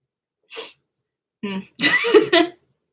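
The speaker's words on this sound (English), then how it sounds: "I feel like I'm gonna sneeze." A short breathy intake, a pause, then a sharp burst with a voiced tail, close and fairly loud, like a sneeze with some throat noise.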